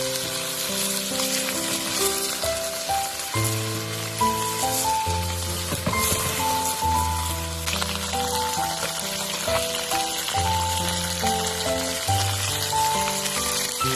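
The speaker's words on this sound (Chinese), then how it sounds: "将鲫鱼煎至两面金黄" Crucian carp frying in oil in a wok until golden on both sides, a continuous crackling sizzle at close range, with background music playing throughout.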